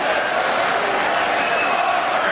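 A large college basketball crowd of about sixteen thousand cheers South Carolina's team against Kentucky in 2005, a steady, dense roar of voices filling the arena throughout with no lull.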